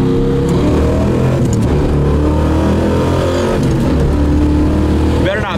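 A 1973 Camaro Z28 with a numbers-matching 350 V8 accelerating hard in fourth gear near 100, a loud continuous engine roar heard from inside the car with voices over it.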